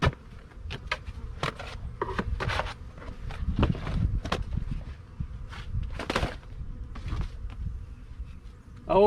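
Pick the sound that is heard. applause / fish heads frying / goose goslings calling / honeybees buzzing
honeybees buzzing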